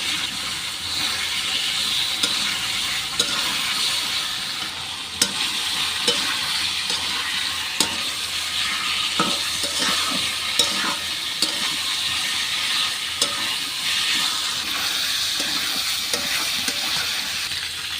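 Washed teasel gourd being stir-fried in a pan of cooked-down spices for a pangas fish curry, with steady close sizzling and repeated scraping strokes of the spatula throughout.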